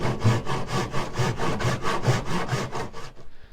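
A hand saw cuts wood during chair restoration work, with about a dozen rhythmic, evenly spaced rasping strokes, close and clear, before it stops.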